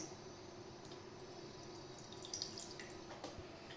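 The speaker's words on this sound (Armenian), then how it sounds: "Հիմա անմիջապես ավելացնում եմ հյութը, զգուշությամբ քամելով, այսպես։" Lemon juice is squeezed and poured into a container for a lemon cake, making faint, close liquid trickles and a few soft drips over quiet background hiss.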